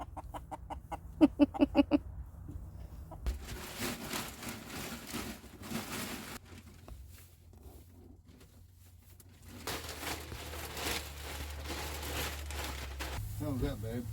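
Chickens cluck and murmur inside a coop being winterized, soft clucks and a few sharper calls scattered over rustling and handling noise, with people talking nearby.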